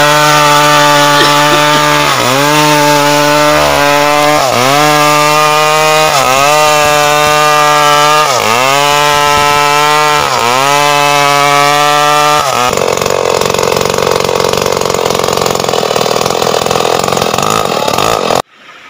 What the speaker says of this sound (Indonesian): jadi penebang ini yang menebang kayu